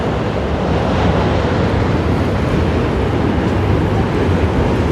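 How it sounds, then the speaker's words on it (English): Waves breaking on a small urban beach at Brooklyn Bridge Park in New York at night, a loud, steady wash of surf with wind rumble on the microphone, no speech. "We got the waves here as well."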